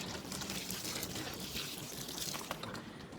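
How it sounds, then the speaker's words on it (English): Water poured from a small container onto an inch or two of soil covering planted kitchen scraps, a steady soft trickling splash lasting about three seconds at close range, with no talking. "and give it a little water."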